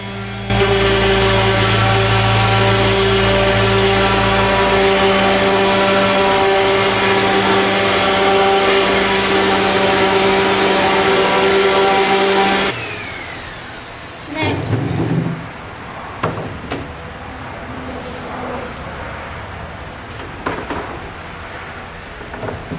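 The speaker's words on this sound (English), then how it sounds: "Okay, we've got everything sanded." Power sander working over wooden boards for a DIY headboard, a loud steady whine for about thirteen seconds that then cuts off, followed by scattered knocks and handling noises.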